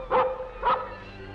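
A newly adopted dog named Prince gives two short, clear barks about half a second apart, close by in a quiet indoor room.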